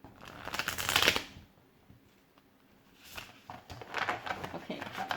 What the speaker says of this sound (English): We're gonna shuffle once again